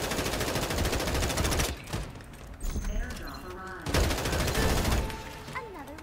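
Rapid gunfire in the shooter game Farlight 84, sustained loud bursts of automatic fire with brief pauses, mixed with game effects and a voice talking over it.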